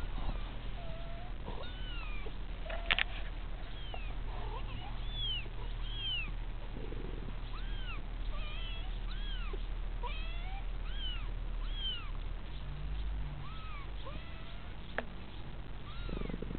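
Many small high-pitched meows from kittens, overlapping and repeating throughout, fairly quiet and close, over a low background hum.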